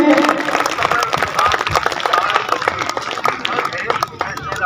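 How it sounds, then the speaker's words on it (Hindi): A crowd applauds at an outdoor mass Agnihotra gathering in Bairasia, Bhopal, with loud, dense, continuous clapping close by, mixed with faint crowd murmur. "मैं सभी से आग्रह करूंगा कि तालियों से अपने हृदय से स्वागत करें।"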